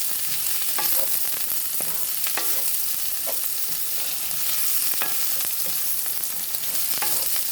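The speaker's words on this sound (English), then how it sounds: "I'm adding the garlic and the sweet pepper and let all the flavors cook and marinate together" Garlic and sweet pepper sizzle in a pan with a steady hiss, punctuated by regular clicks and scrapes from stirring, close and with no talking.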